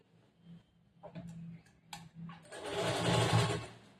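A sewing machine stitches a lined blouse with a border in a tailoring class, starting with a few soft taps and short runs before settling into a steady, fast stitching whir.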